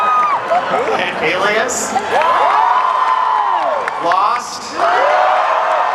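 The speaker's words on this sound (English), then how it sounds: "Maybe we should just save the applause for the end." Audience at a Comic-Con 2010 panel with two filmmakers cheering, whooping and clapping throughout, loud and close, mixed with someone talking over the crowd noise.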